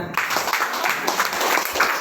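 A small group of people clapping at a farmers' training session on dairy and agro processing, a short burst of scattered applause in a room.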